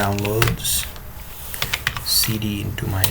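Keys on a computer keyboard clatter in quick bursts as terminal commands are typed on a Linux machine, close and fairly loud, with a voice talking over parts of it.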